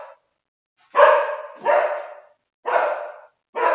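A dog barks close by in four loud, separate barks spaced under a second apart, each one sharp and then trailing off, with no talking.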